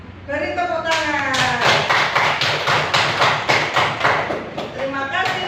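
A class of students claps together in a rhythmic group clap during a coding lesson, a run of sharp, evenly spaced claps following a teacher's brief speech and ending with a few scattered voices.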